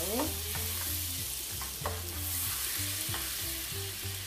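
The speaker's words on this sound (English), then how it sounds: "I'm just going to mix it around" A garlic and onion mixture is stirred in a hot pan, with a steady sizzle of frying and a utensil scraping in repeated strokes, close and clear with no voices.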